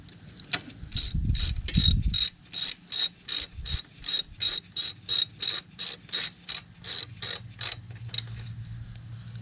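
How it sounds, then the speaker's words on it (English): Ratchet tightening the mounting bolts on a Kia Sedona cooling fan: a steady run of about twenty quick, evenly spaced clicks, close and clear, after a brief rustle of handling at the start. "Get the other one started before I really tighten them down."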